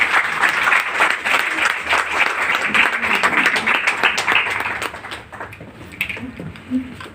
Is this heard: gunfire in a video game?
no